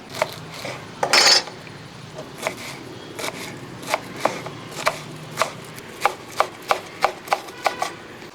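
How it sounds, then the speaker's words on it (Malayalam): A knife chops spring onion on a board for restaurant-style fried rice, a brief burst of rustling then a run of crisp, evenly spaced thuds that quicken toward the end, close and clear with no talking. "ഇനി നമുക്ക് ഈ സ്പ്രിംഗ് ഓനിയനും കൂടെ ഇങ്ങോട്ട് അരിഞ്ഞെടുക്കാം"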